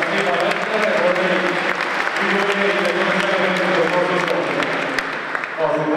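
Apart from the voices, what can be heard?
applause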